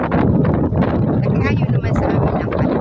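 Wind blowing outdoors buffets the microphone in a loud, continuous rumble with gusty surges, while voices can be heard underneath.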